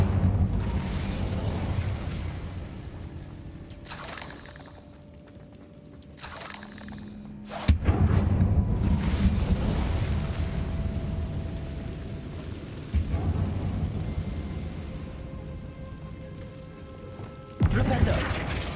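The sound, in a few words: Incendio fire spell blasts in Hogwarts Legacy video game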